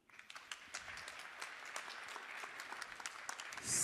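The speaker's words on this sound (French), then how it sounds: "je pense que vous pouvez vous applaudir" Audience at a startup conference opening clapping together, a dense crackle of many hands that swells quickly and holds steady, ending with a louder burst.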